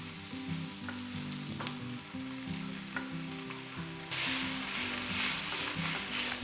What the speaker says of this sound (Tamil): இதெல்லாம் நல்லா வதங்கிட்டு இருக்கட்டும்